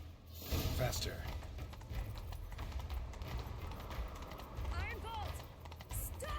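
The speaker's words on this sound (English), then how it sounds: "Grab a horse, we'll chase him down." A horse galloping in the video game Witcher 3 during a chase, rhythmic hoofbeats running steadily under game voices and mechanical clatter, with a brief whinny-like sound near the end.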